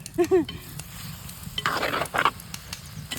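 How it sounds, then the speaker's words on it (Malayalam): Avial, a Kerala mixed-vegetable dish, is stirred with a ladle in a pot, making soft scraping and shuffling bursts close up over a faint sizzle, with a few brief clicks of the ladle. "ഒന്ന് ഇതിങ്ങനെ ഇളക്കി സെറ്റാക്കി കൊടുക്കാം കേട്ടോ."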